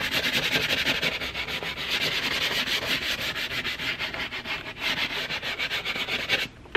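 Brisk rhythmic scrubbing of a C5 Corvette's leather seat with a brush and cleaner, a close, continuous rasping swish of quick back-and-forth strokes that stops abruptly at the end.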